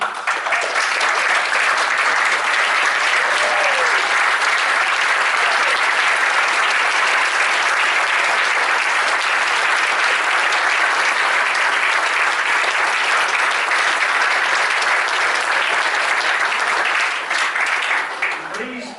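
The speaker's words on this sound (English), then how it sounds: "Please be upstanding for Nicholas Roche" A standing audience at an evening event applauds cyclist Nicholas Roche, Irish road and time trial champion, with loud sustained clapping that holds steady for nearly twenty seconds before tapering off at the very end.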